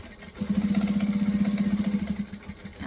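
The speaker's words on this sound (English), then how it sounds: "And then I'm just going to back stitch there as well." A sewing machine back stitches on a fabric coffee clutch, running in a steady fast whirring pulse for about two seconds before stopping, close and moderately loud with no talk.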